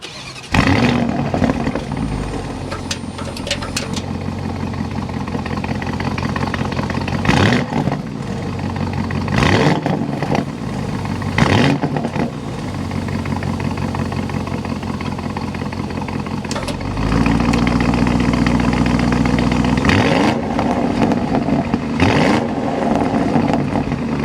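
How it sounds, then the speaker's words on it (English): A 2023 Audi SQ7 twin-turbo V8 cranks and fires up, revs loudly several times with sharp blips through its active exhaust, then settles into a deep, steady idle rumble. "start it up so you can hear that exhaust note."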